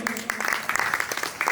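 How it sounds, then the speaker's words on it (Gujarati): A crowd claps at a temple consecration festival, a short burst of moderately loud applause with uneven individual claps, a faint steady tone running underneath. "તાળીઓથી વધાવી લ્યો."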